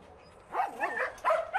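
A dog gives a few short, high barks and yips mixed with whimpering, close and fairly loud in a quiet room.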